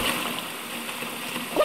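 Water sprays onto a ragdoll character in the video game Kick The Buddy, a steady continuous splashing and spattering that holds for the whole moment and swells slightly at the end.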